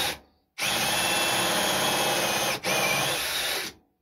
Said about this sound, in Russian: можно перевернуть и с обратной стороны просверлить коронкой навстречу